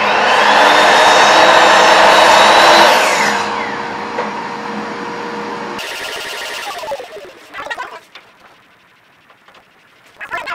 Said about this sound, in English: turn on my dust collector